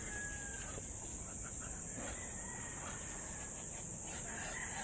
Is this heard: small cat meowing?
no